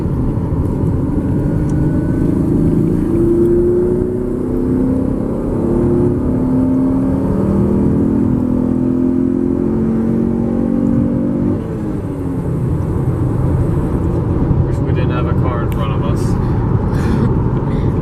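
A 2015 Chevrolet Camaro V6 in LS trim accelerates onto a highway, heard from inside the cabin as a steady engine drone with rising gear pulls, a brief dip at a shift, then sustained road roar.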